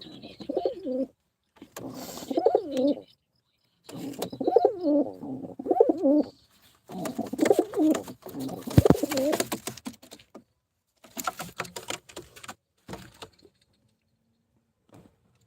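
Pigeons coo in repeated rounded phrases, each burst separated by short quiet pauses, fairly close and clear, with no talking.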